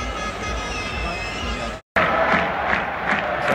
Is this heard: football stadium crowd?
yes